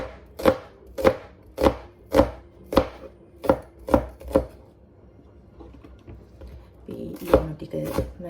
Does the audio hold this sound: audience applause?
no